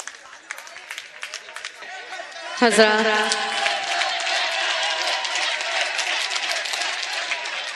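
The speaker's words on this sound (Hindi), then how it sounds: "जोरदार तालियों से इस्तकबाल कीजिए मोहतरमा जीनत मुरादाबादी साहिब का" An audience at a shayari poetry gathering bursts into applause to welcome the poet Zeenat Moradabadi, scattered claps building into a full, sustained round amid crowd noise and a brief tonal sound as it starts.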